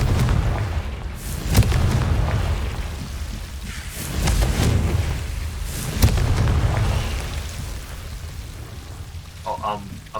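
In Hogwarts Legacy, the Confringo fire spell explodes. Loud rumbling booms with sharp cracks burst around two, four and six seconds over a dense crackling roar, and a voice speaks near the end.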